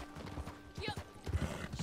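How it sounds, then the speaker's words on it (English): Horse hooves clip-clop in Red Dead Redemption 2, a few uneven steps at moderate distance, with a voice and faint whinny-like noise mixed in over the short stretch. "I'm gonna murder you, horse."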